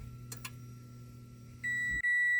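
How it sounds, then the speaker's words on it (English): Horn of a 2015 Subaru BRZ sounded with a newly installed Nardi steering wheel and quick-release hub, a loud sustained electronic-toned blast starting after a quiet interior hum and brief clicks, cut briefly then resumed. "Horn works."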